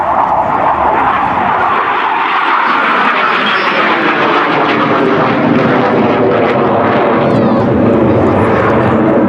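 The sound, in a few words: Hawker jet aircraft flying at Culdrose air day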